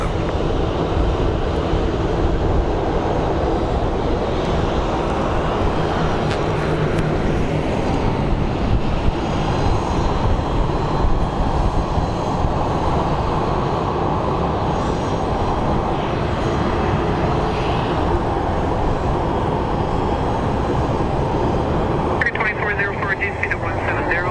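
A Delta A321 airliner at Phoenix Sky Harbor gives off a steady broadband jet roar that stays loud and sustained throughout, with a voice talking over it and faint radio chatter in the background.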